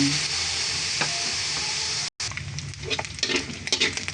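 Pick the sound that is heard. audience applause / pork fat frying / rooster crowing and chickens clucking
pork fat frying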